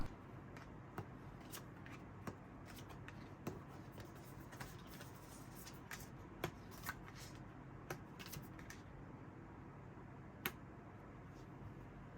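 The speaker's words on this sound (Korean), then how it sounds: "그럼 좀 더 자세한 카드 뽑아볼게요" Tarot cards are shuffled and drawn at a table, faint soft card rustling punctuated by scattered crisp little snaps and taps over a quiet room hum.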